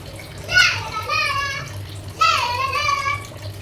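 Water pours and splashes into a bucket in two bursts, close by, with a voice and other talk heard over the flow.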